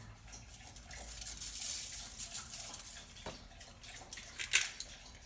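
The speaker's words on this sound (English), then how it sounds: "That's my dog drinking in the background." In a home kitchen during trout preparation, a dog laps water in the background, a faint, uneven stream of wet slurping and clinking with no talk.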